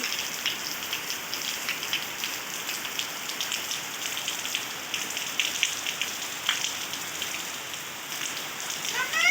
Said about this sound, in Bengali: বেশ জোরে বৃষ্টিটা পড়ছে